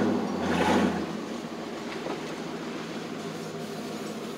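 A 1996 GMC Sierra truck engine runs at a steady idle, a continuous low rumble that swells briefly at the start and then holds even.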